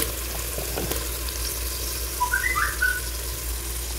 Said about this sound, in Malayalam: ഇനി ചേർത്താൻ പോണത് അപ്പോൾ ഇതൊരു 6 സവോള നീളത്തിൽ അരിഞ്ഞതാണ്. ഇനി ഇത് നമ്മൾ എണ്ണയിൽ ഇട്ടുകൊടുക്കാം.